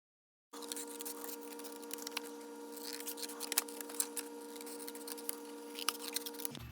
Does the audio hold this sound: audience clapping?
no